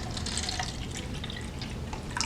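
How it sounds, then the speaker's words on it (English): Water is poured into a cup nearby, making a continuous splashing trickle with small drips, with no voices. "pour about half a cup of water in each cup"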